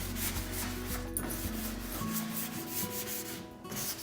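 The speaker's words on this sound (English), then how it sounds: "I'm just going to take some sandpaper and I'm just going to sand a little bit on some of the edges" Sandpaper rubbing by hand along the edges of painted wood furniture, making repeated scratchy back-and-forth strokes with brief pauses, close and moderately loud.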